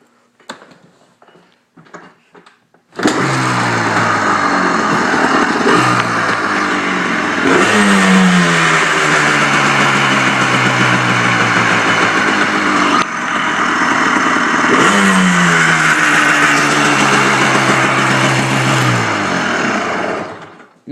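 A 2002 Yamaha Blaster ATV with a freshly rebuilt top and bottom end starts after a few quiet seconds, then runs loud and close, revving up and down repeatedly in surges with a brief dip midway.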